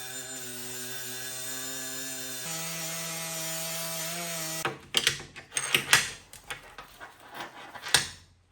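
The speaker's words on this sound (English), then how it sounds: "I'm going to do some cleanup with the wire wheel on the Milwaukee" A Milwaukee wire wheel spins against a metal RC driveshaft at a welded joint, a steady whirring hum for about four seconds, then several short, loud scraping bursts as the brush touches the metal.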